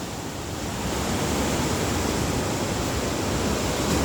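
Deep river water rushes through the gate of an irrigation dam under construction, a steady, loud, close roar of churning water that continues unbroken, with no one speaking.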